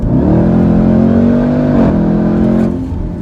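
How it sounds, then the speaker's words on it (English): A 2018 Jeep Trackhawk accelerates hard with a loud, sustained engine roar that climbs in pitch, briefly dips as it shifts, then rises again, with a faint tire spin near the end. "I heard a tire spin."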